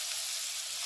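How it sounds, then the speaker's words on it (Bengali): Diced potatoes sizzling in hot oil after small cardamom is cracked in, cooked for a Bengali muri ghonto with catla fish head; a steady, close, bright frying hiss with no voices. "আলুটা একটু ভাজবো,"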